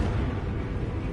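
A booming fireball blast from the Confringo spell in the game Hogwarts Legacy, a sustained low rumbling burst filling the whole moment at steady loudness, with no talk over it.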